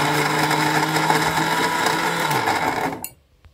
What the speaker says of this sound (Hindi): ग्राइंडर चला लेंगे।